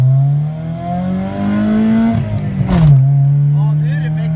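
A Honda Civic TRD engine revs hard as the car pulls from 0 to 60, a loud steady drone that rises in pitch, drops sharply at a gear change, then climbs again; people talk over it.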